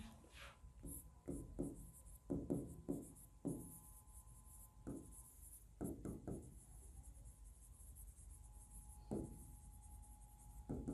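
A teacher writes notes on a board during a chemistry lesson on thermodynamics, with faint scratchy strokes and taps in short bursts, separated by pauses, in a quiet room.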